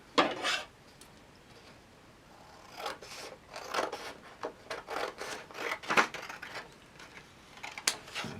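Scissors cut printed book pictures along the centre line into long strips, giving close, crisp snipping and rasping strokes in irregular bursts after a quiet pause.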